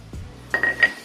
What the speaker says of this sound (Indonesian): Jadi sendok untuk pencongkel ban ini sangat berguna sekali pada pembukaan pada bagian seal skop ini